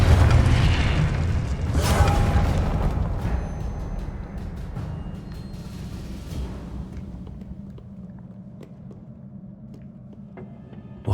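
Confringo blasting spell explosion in the Hogwarts Legacy video game, a loud booming burst at the start that rumbles and slowly fades over several seconds, with scattered debris clatter and no talk.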